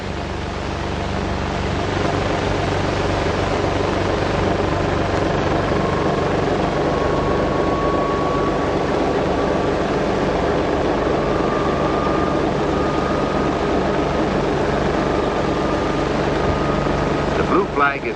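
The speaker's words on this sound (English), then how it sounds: "Now, here comes the freight engine." A loud, steady mechanical rumble of a 1950s Atchison, Topeka and Santa Fe Railway freight locomotive approaching, a constant low drone that holds at full volume from start to finish.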